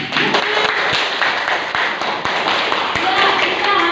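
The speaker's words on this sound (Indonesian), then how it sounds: "Tepuk tangan buat." Students clapping in an Indonesian history classroom, a brisk burst of hand claps from a small group, fairly close and loud, with voices talking over the clapping.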